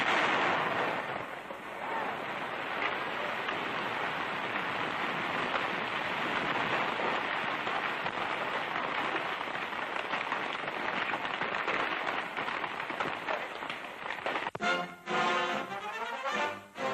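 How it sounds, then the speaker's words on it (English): A long, heavy roar of a massive dynamite blast beneath a river bottom and rushing debris, sustained and dense throughout, with a brief voice near the end, from a 1943 newsreel. "they plant tons of dynamite to blast a bed for the pipe beneath the river's bottom"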